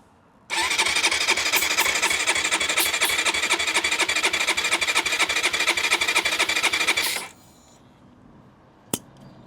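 A Keeway RKR 125 four-stroke motorcycle engine cranks on the starter during a compression test, a loud, fast, even whirring churn lasting about seven seconds before cutting off, followed by quiet and one sharp click.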